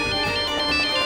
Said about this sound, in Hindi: किसका फोन आया?